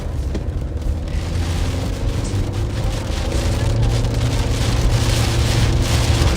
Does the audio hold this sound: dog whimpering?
no